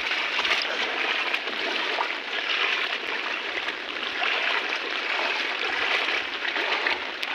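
Heavy monsoon floodwater pours steadily across a flooded village road beside paddy fields in Malvan, Sindhudurg, a continuous loud broadband rush and gurgle that holds even throughout without any voices.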